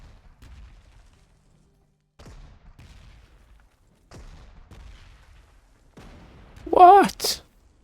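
Gunfire in the World War II strategy game Panzer Corps 2, set in 1940 near Lille: after quiet stretches, a short loud burst of shots and a booming blast hit close together near the end, with murmuring voices before.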